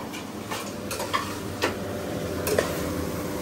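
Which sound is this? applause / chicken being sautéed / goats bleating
chicken being sautéed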